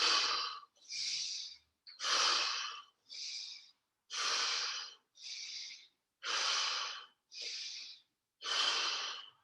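Rhythmic breathing in and out during gentle yoga marching, nine breathy, evenly spaced inhales and exhales close to the mic with silent gaps between them.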